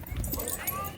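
A husky lets out a short, close whimpering whine, a brief strained vocal sound lasting about a second.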